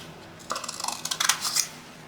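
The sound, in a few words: trimming folded paper off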